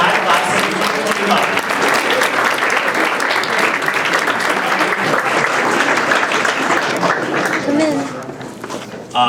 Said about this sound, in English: I think it's definitely worth one more big round of applause for our swim and dive class of